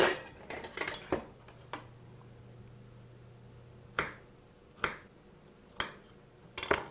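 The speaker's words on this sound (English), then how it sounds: "I'm going to chop that clove of garlic up just a few times" A kitchen knife chops a clove of garlic on a board with a handful of sharp, separate knocks spaced a second or so apart, close and fairly loud with quiet pauses between.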